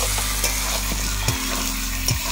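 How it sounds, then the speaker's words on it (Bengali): Chicken pieces slowly stirred and browned in a hot pan, a steady close sizzle of oil running throughout, broken by a few sharp spoon scrapes against the pan. "মাংসটা এইভাবে নেড়ে নেড়ে কম আছে আস্তে আস্তে কষিয়ে নিতে হবে"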